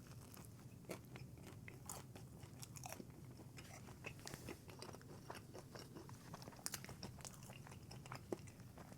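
Eating a slice of Jets regular pepperoni pizza, with soft close bites and crunching chewing that repeat irregularly, quiet and without talk.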